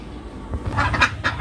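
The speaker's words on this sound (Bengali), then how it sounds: "হাঁস মুরগিগুলো চলে আসছে হাঁসগুলো ঘরে ওঠার জন্য" A few short quacks from ducks close by, coming home to their house, rising in loudness over a low background rumble.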